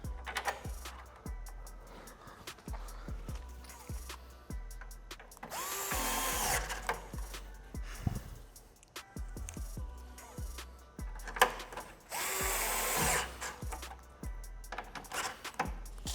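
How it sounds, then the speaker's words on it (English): A power driver drives two T15 screws to fasten a composite rear diffuser insert on a C8 Corvette Z06/ZR1, with two loud whirring bursts among clicks and ratcheting tool handling, close and without talk. "we can actually fasten it using the 2 T15 screws"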